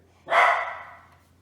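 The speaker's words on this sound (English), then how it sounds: "He's barking at Karen and stuff" A dog lets out a single sharp bark at close range during roll-over training, rising quickly and trailing off, with quiet background otherwise.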